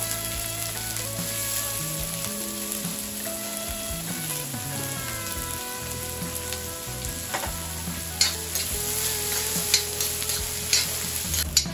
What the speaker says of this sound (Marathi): एकदम असा थोडा ब्राऊन करून घ्यायचा कांदा.